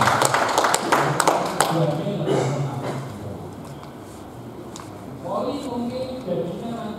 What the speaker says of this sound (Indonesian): Mari kita beri tepuk tangan terlebih dahulu untuk Pak Effendi